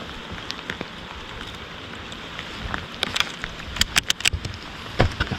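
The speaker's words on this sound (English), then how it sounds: "It was raining pretty good on us." Rain pattering on a fishing boat out on the water, steady hiss with sharper drops and taps growing denser toward the end, plus some wind buffeting.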